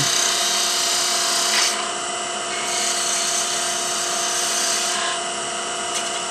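A lathe tool cuts a spinning wooden wine stopper with a loud, steady, hissing scrape and an underlying motor whine, constant throughout at close range.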